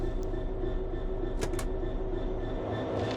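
Class 66 diesel freight locomotive in a train simulator game, idling steadily with a constant low engine drone and a couple of brief brake-air hisses, heard alone at moderate level during aggregates hopper shunting.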